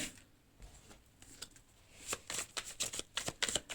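Tarot cards riffled and dealt out in a run of crisp, papery flicks and slaps, quiet at first, then a quick, close, irregular burst of card snaps toward the end.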